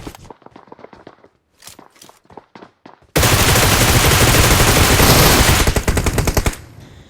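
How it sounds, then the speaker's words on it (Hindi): Sustained burst of rapid automatic gunfire in the PUBG Mobile (BGMI) battle royale game, loud and dense for about three seconds after a few lighter scattered shots and footsteps, then tapering into separate cracks. "मैं यहाँ पे तू जिस खिड़की में है वहाँ पे दबादब गोली चला रहा हूँ"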